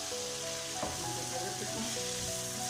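Bitter gourd and potato bhujia frying in a pan, a dense continuous sizzle close up with a faint tonal murmur in the background.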